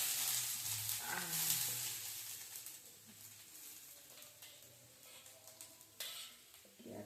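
Grated coconut roasting in hot ghee in a kadhai for gur til laddoos, a steady soft sizzle with occasional scraping stirs, close and continuous with no talking.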